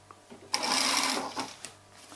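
A sewing machine runs a short stitching burst along a side seam in tailoring work, starting abruptly, holding steady for about a second, then tapering off with a few faint clicks of handling afterward.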